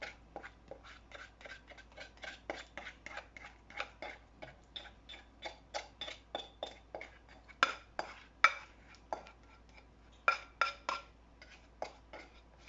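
Falafel mixture of ground vegetables, onion and garlic being mixed together in a bowl, producing a steady run of quick clicking and tapping strokes, close and fairly quiet.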